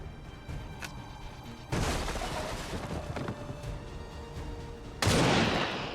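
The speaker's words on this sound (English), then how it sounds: "we'll take some pot shots" Gunfire in a modded game of XCOM 2: two heavy, crashing shot bursts ring out over a steady low rumble of background noise, the second louder and closer.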